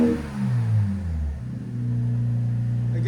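A 2026 RAM 1500 with a 3.0L Hurricane inline-six and Flowmaster Super 10 exhaust revs close by, its deep exhaust note rising then dropping back to a steady idle rumble before starting to climb again.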